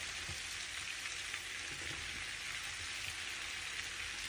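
Baby potatoes frying with chopped chili in a pan, a steady dense hiss of oil with faint crackles, moderately quiet and continuous, without speech.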